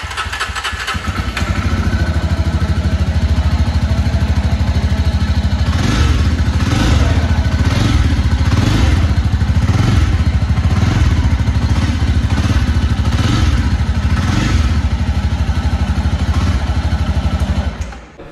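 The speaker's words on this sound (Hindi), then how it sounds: "एक बार मैं आपको एग्जॉस्ट नोड भी सुनाता हूँ इस बाइक का।" Jawa 42 2.1 motorcycle (2022) running with its dual exhaust, a loud, steady mid-pitched engine thrum with rhythmic pulsing revs close by for the full length, no talking.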